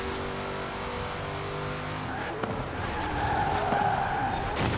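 A car in the racing game Forza Horizon 4 slides through corners, its engine droning steadily while tyres squeal and skid, growing slightly louder toward the end.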